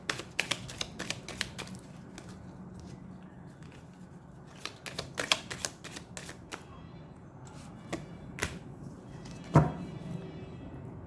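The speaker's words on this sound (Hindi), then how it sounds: "एक कार्ड और लेंगे।" Tarot cards are shuffled and drawn from a deck, giving a series of close, sharp snaps and soft papery flicks that come in irregular bursts, with quiet pauses between them.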